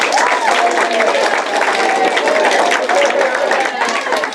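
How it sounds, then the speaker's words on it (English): An audience applauds eighth grade teachers at a school gathering, a continuous crowd of clapping with voices and cheers mixed in throughout. "Let's give them a round of applause"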